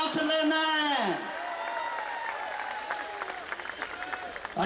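An audience at a Hindi comedy poetry show breaks into applause and crowd noise, beginning under a performer's drawn-out vocal and continuing as scattered clapping afterward.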